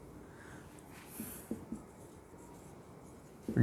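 Chalk scratching across a classroom board as a question is written out during a structural analysis lecture on beams, a few faint scraping taps alone and at low level.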